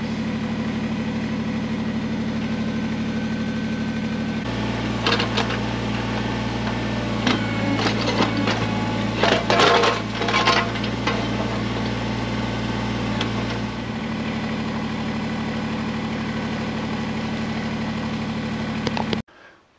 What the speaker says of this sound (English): The whole tractor is skidding sideways.